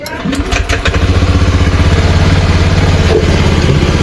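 A Honda Beat FI scooter that misfires and lacks power, fitted with a new TPS and EOT sensor, starts up close by and settles into a loud, steady, even idle.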